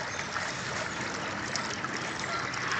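Water bubbling and gushing up out of the ground in a backyard from a leaking underground pipe, a steady close trickling and burbling that runs without a break.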